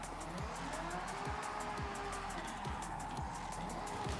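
A car drifting in the game Forza Horizon 6, with a continuous engine drone and tires squealing and skidding throughout, fairly quiet and steady.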